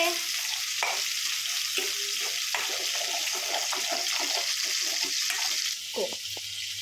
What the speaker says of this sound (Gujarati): એમાં આપણે ટામેટાની જે ગ્રેવી કરી રાખી હતી ને એ ઉમેરી દઈશું